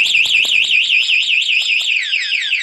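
A TEXNO two-way anti-theft alarm fitted to a Kawasaki big bike wails in a rapid, warbling siren, loud and close, sweeping up and down repeatedly before shifting to a different tone near the end.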